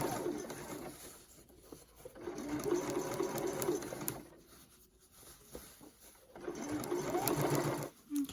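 A sewing machine stitches a set-in sleeve into a garment in bursts of rapid, steady whirring, pausing briefly between runs.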